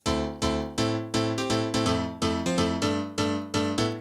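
Dry Korg M1 piano preset from the VST with insert and room effects switched off, striking repeated bright chord stabs in a steady rhythm, each hit decaying before the next, close and alone with no voices.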